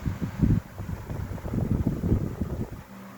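A 1988 Dayton Lasko 16-inch oscillating table fan, model 4C508, runs on medium speed with a steady, soft airy whoosh and light wind buffeting, close to the microphone and fairly quiet.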